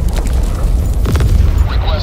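A grenade goes off in the video game Helldivers II, a deep, rumbling boom that fills the low end over dense in-game noise, with a faint voice underneath.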